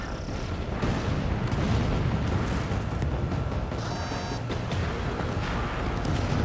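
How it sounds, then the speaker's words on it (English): Missile launch and explosions from the Ace Combat 7: Skies Unknown flight combat game, a dense, loud, continuous roar of booming blasts and rumbling fire running throughout with no break. "Mage 2, missile away. Target lock, firing."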